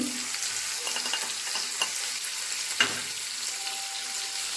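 Ginger garlic paste, green chilli and curry leaves sizzle in hot oil while being stirred, a constant close frying hiss with occasional scrapes and a couple of light clinks of the spoon; no talking.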